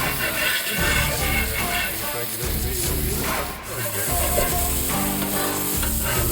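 Burgers sizzling and frying on a Camp Chef 16 inch Pro griddle, with a continuous loud crackle and scraping spatula strokes close by.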